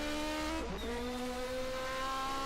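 A 1980 DRM Division 2 race car at the Norisring drops a gear with a sharp dip in engine pitch, then its steady, loud, buzzing exhaust note climbs again, heard close and alone.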